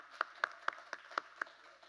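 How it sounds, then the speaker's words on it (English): At a fellowship forum honoring four panelists, faint clapping comes in an even, steady rhythm, roughly four sharp claps per second, with no voices over it. "a round of applause to you four"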